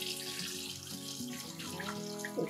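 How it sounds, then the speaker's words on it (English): Water runs steadily from a kitchen tap into a sink for a pre-clean rinse while pizza and cheesecake are prepared, a continuous close splashing hiss with no speech over it. "Now I'll pop some water in."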